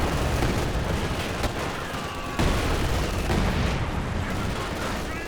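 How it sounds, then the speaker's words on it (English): A heavy mortar barrage lands in Company of Heroes 2 as a dense, continuous roar of blasts and gunfire, with a sudden loud surge midway. "he did bring in the heavy mortar barrage"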